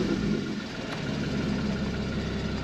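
A 2015 Porsche Cayman GTS with sports exhaust idles steadily with a low, throaty rumble, continuous and fairly close, with no voices.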